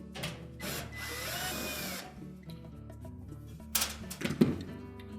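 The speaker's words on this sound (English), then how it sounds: "our next step will be to remove these two screws that secure the back panel in place" A power drill spins out screws holding the back panel of a Whirlpool washer, a steady whirring run of about two seconds near the start followed by shorter bursts and clunks close by.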